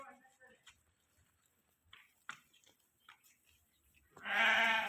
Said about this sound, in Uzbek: yaxshi qo'ylar ham ja katta emas Saydulla.